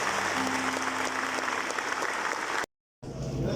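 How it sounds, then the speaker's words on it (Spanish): Loud, steady applause from an audience at a men's religious gathering led by a priest in Barranquilla fills the room, then cuts out briefly before resuming just as strongly. "Vamos a dar un fuerte aplauso al Señor."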